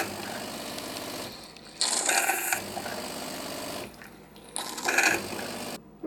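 A home espresso machine purges its steam nozzles in two loud hissing bursts, each lasting under a second, with a steady mechanical hum running underneath.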